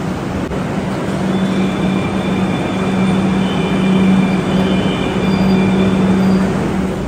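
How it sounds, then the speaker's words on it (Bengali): A Kolkata Metro train rumbles into Kavi Nazrul station, a loud, close, steady rolling roar with faint high whines and squeals from the wheels and motors. "আর মেট্রো এসে গেছে, আমরা এখন কবি নজরুলে রয়েছি"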